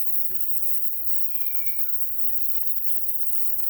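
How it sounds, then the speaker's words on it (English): A pet cat meows indoors, with a short call near the start and a longer, rising meow around the middle, then a faint final one, heard over a steady background hiss. "Oh, my cat's going crazy."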